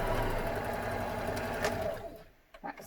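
A sewing machine runs a continuous stitch along a seam in knit fabric, a steady close whirring hum that slows and stops near the end, followed by a few light clicks.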